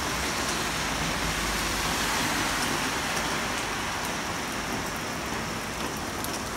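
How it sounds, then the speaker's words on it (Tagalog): Heavy rain pours steadily in Hulon in a dense, unbroken hiss, with faint traffic rumbling underneath and no voices, heard while waiting for a bus. "Lakas ng ulan dito sa Hulon."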